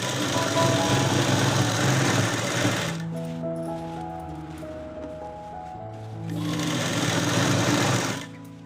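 A sewing machine stitches a churidar pant in two loud, steady bursts of whirring at the start and end, with a quieter gap in between where a low hum and tonal drones remain.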